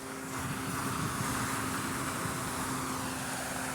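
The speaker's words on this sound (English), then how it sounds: "So there's a airplane" A propeller airplane passes overhead as a faint, steady drone with a constant hum, distant and continuous, with no voices.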